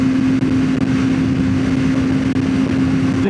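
A 600cc sport motorcycle engine cruises on the interstate in a tall gear, holding a loud, steady hum with wind rush throughout and no voices.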